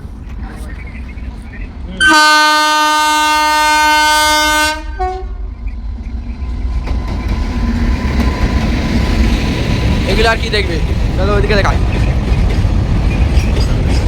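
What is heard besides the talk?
train crossing rail bridge at Kolaghat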